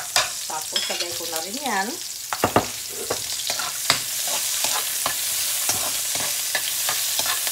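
Oil sizzles loudly as vegetables fry in a pan for a healthy lunch, a close, steady crackle broken by sharp stirring scrapes and clatters, with a voice speaking briefly near the start.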